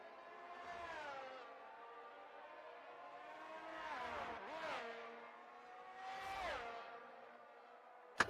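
A Formula 1 car engine from the F1 22 racing game, an Alfa Romeo on a lap of the British Grand Prix circuit, whines high and steady, rising and dipping through gear changes and corners across the stretch, with no voices over it.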